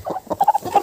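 A crested rooster in a farmyard gives a quick run of short clucks, close and clear, in under a second.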